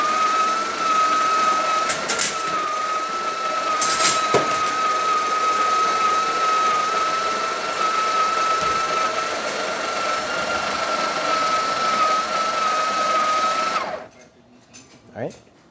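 A Breville Barista Express espresso machine's built-in grinder grinds coffee for a double shot, a steady loud whirring drone lasting about fourteen seconds with a few clicks, then cutting off abruptly into near silence.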